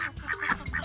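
Ducks quack in a quick series of nasal honking calls, close and fairly loud, with no voices.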